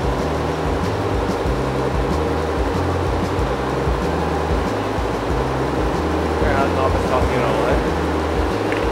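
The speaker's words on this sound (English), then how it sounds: "Pay close attention to how much slower this embroidery machine is moving as compared to the other ones." An industrial embroidery machine in a fashion factory stitches rhinestones directly onto fabric backing, giving a steady mechanical whir and rhythmic low thumping that runs continuously and fairly loud throughout.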